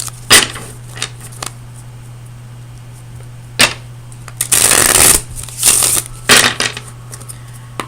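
Tarot cards are shuffled in several quick, crisp bursts, loud and close, with short pauses between riffles and no voices.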